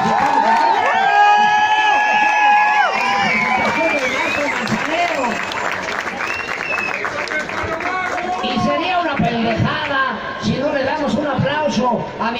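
Audience applause and cheering from a crowd at a statue unveiling event in Puebla, a dense sustained wash of clapping with whoops and voices mixed in, loud and continuous throughout.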